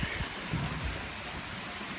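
Rain falls steadily as a dense, even hiss beside a 14.5-inch Weber Smokey Mountain smoker, with a few closer drops pattering now and then.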